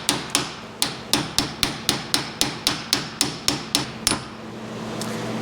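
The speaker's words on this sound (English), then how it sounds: "I gave this 3 love taps with a hammer, or flat face hammer" A flat-faced hammer strikes a Ford 801 tractor hydraulic pump part held in a vise: about fifteen sharp metallic taps in a steady, fairly quick rhythm, close and distinct, each ringing briefly before the next, with no talking.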